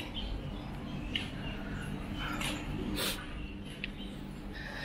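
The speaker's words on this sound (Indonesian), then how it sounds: "Terus masih kedengaran dong suara burung pagi-pagi." Faint morning bird chirps scattered over a steady outdoor background hum, a few brief calls standing out now and then.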